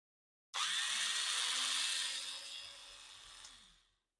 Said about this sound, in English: High power model 77J 1/4 inch electric drill.